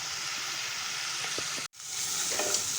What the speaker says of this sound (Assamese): আৰু এইখিনি এতিয়া মই ভাজি ল'ম।